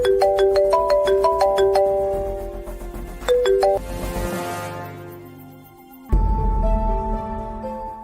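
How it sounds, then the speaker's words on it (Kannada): A phone rings with a repeating melodic chime tune, loud and clear, pausing briefly before starting again, in a Kannada TV drama scene with no talking. "ಪ್ಲೀಸ್ ಫೋನ್ ಪಿಕ್ ಮಾಡಿ."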